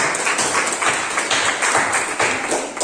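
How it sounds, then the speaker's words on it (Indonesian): Classroom applause at a vocational high school lesson on bridges, a steady burst of many hands clapping in a room, close and loud for about three seconds. "Tepuk tangan ya"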